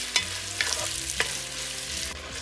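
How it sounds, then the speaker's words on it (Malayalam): Chopped medium-sized onions sizzle in vegetable oil in a single pot, with a spoon scraping and stirring at a steady pace and a few sharper clinks, close up and with no talk. "ഈ പാത്രത്തിൽ തന്നെ കറി വെക്കാനുള്ള ഉള്ളി വഴറ്റുകയാണ്"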